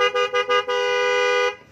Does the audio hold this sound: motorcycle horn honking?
yes